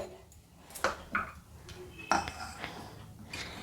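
A mixing jar being picked up and set down on a kitchen counter while making thandai, a few light clinks and knocks at irregular intervals against quiet room tone.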